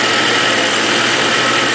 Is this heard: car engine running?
yes